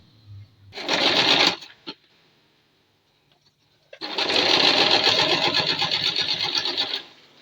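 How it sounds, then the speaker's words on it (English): A sewing machine stitches boning onto a spiral flounce: a short burst of rapid whirring, a pause, then a longer steady run of fast, even stitching, loud and close. "I'm just sewing on the boning."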